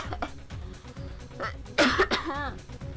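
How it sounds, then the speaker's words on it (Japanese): A harsh cough and throat-clearing burst close to the microphone, with murmured voices and background sounds around it. "ちょっと待って、咳出る。"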